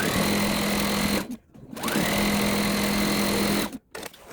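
A sewing machine stitches pairs of quilt fabric for a layer cake walk pattern: two loud, even runs of rapid needle whirring, each broken off by a brief pause.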